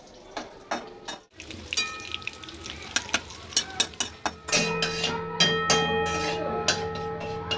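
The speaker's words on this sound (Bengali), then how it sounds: "তেলটা গরম হয়ে গেছে, গ্যাসের ফ্লেমটা মিডিয়ামে রেখে পকোড়াগুলো এবার ভেজে নেবো আমি।" Steady crackling sizzle of shrimp pakoras frying in hot oil, with sharp pops and clinks of a utensil near the pan.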